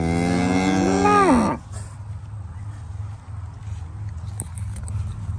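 A cow lets out one loud, close, drawn-out moo while cattle are being fed on a farm, then only quiet ambient farm noise remains.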